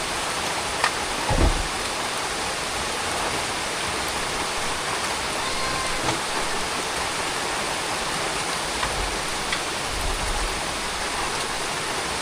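Heavy rain pours steadily in a constant broadband wash, strong enough to seem to threaten the ground, with a few faint low thumps and no speech.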